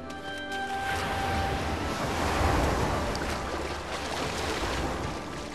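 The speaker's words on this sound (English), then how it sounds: "The waves don't even reach all the way to the top to begin with." Ocean waves washing in the video game Unravel, a continuous broad surf roar that swells toward the middle and eases off, with no talking over it.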